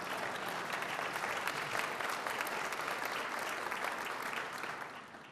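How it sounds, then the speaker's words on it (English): A crowd claps steadily through a county state-of-the-county address in King County, a thick, even wash of applause that stays loud and dense before easing slightly at the end. "You can applaud for that."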